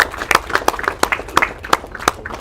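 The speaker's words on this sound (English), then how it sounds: "let's give a huge round of applause for her" Scattered hand claps at a web engineering meetup, sharp separate claps from a small audience in an uneven rhythm, close and clear.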